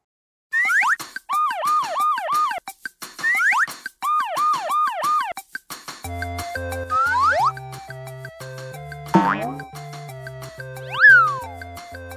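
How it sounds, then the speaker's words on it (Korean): A toy ambulance, part of a set of toy emergency vehicles, sounds a loud electronic wailing siren in rapid repeating sweeps. A short pause follows, then a melodic jingle with boinging effects and a final rising whistle. "지금 바로 구급차를 보낼게요."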